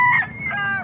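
Chickens for sale at a Bulacan flea market, including a red rooster and a green-legged rooster, give a short, loud crow and clucks close by, with no talk over them.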